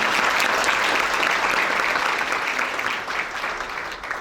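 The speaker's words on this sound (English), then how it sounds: "You can clap for Councilwoman Dunstan." An audience at a community initiative launch in Atlantic City gives a councilwoman a dense, steady round of applause that thins slightly toward the end.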